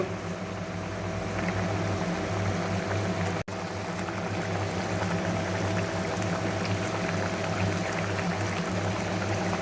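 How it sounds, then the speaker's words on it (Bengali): Fried pabda fish goes into a boiling mustard and poppy seed curry, with a steady bubbling hiss and low simmer heard close, broken by one brief dropout midway. "ঝোলটা ফুটতে শুরু করেছে এবার ভেজে রাখা মাছগুলোকে আমি ঝোলের মধ্যে ছেড়ে দেব"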